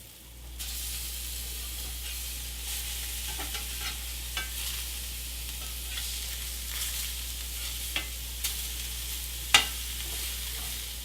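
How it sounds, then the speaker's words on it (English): Browned sausage patties sizzle in a pan after being flipped, a constant soft frying hiss with a steady low hum underneath and a few small pops and clicks, fairly quiet and with nobody talking. "I think I've got a nice little brown crust on these patties, so I'm going to flip them over and turn them down"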